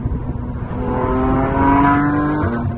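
A Porsche GT3 accelerating on a highway, its engine note climbing smoothly and loudly through the revs as a close, rising howl with no talk.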